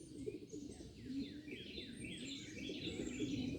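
A flock of young pigeons out on a morning fly, heard as faint chirps and soft calls over quiet outdoor background, with repeated sweeping tweets throughout.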